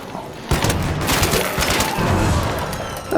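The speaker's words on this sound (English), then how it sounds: "Oh, that's a nade." A grenade goes off in the video game ARC Raiders: a sudden loud boom is followed by a dense crackle of debris and rumbling blasts that keep going for a few seconds, with no voices.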